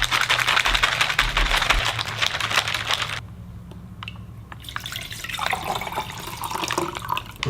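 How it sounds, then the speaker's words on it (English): Water is poured into a cold-weather beef stroganoff meal's drink mix and stirred, giving steady splashing and sloshing that pauses briefly, then returns with clicking and stirring. "We're gonna pour it in, mix it up, and put it right back into this cup"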